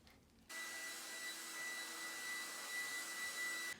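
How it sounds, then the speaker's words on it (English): A hair dryer switches on to dry a painting and blows with a steady, loud whooshing roar that continues without a break. "So now we're going to use the hair dryer. We're going to dry it"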